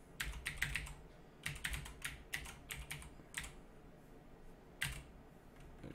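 Computer keyboard typing in short bursts of rapid clicks, separated by brief pauses, while a name is changed during a Kodi add-on setup; the keystrokes are close and fairly quiet.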